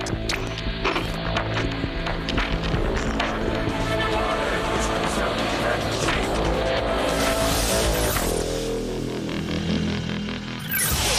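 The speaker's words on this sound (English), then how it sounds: "The 240 horsepower Nissan Pathfinder." A 240-horsepower Nissan Pathfinder revs and screeches its tires, loud and sustained with sharp squeals and a passing rush, mixed with music and voice in a fast-cut commercial spot.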